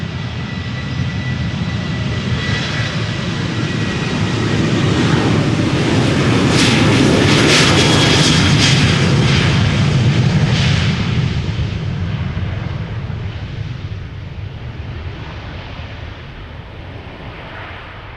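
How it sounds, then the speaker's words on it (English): A KLM Boeing 737-800 takes off at Amsterdam Schiphol, a loud, close jet roar that swells to a rumbling, crackling peak mid-way, then slowly recedes into the distance. "This is KLM flight 1041, going to Birmingham. 737-800 PHBXZ, 16 years old"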